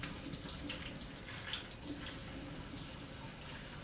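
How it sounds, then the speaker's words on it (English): Five raw chicken breasts get rinsed in vinegar water under a running faucet, a constant close hiss of flowing water with small splashy flickers and no talk. "Rinse it again. It's in the vinegar water."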